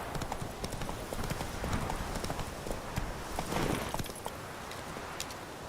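Hooves of Roach, the horse in The Witcher 3, clop steadily in an irregular walking-to-trotting rhythm on a road, close and clear over a soft ambient bed.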